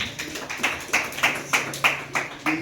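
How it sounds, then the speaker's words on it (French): An audience claps their hands in a steady, evenly spaced rhythm of about eight claps, moderately loud and close, ending with a faint voice. "Can you clap your hands? Applaudissez pour vous."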